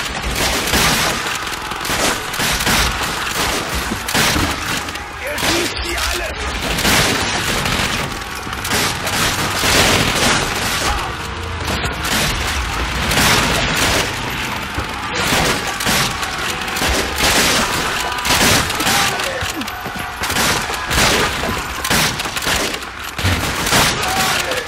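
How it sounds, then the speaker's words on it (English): German soldiers fire relentlessly in the WWII shooter Call of Duty: Finest Hour, with dense machine-gun bursts, rifle cracks and booms forming a loud, continuous barrage close by. "The Germans are throwing a kabillion bullets at me right now"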